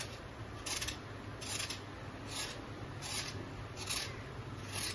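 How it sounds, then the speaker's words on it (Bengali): A knife scrapes the skin off pointed gourds (potol) in a Bengali kitchen, with repeated rhythmic rasping strokes about once every half second, close and fairly soft, with no talking. "প্রথমে আমি পটলগুলোকে চেঁচে নেবো"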